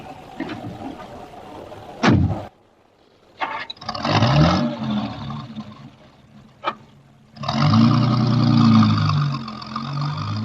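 A car engine turns over and starts, then revs and pulls away in a loud rumbling burst, with a door-like thump and a brief lull before the engine note rises again near the end.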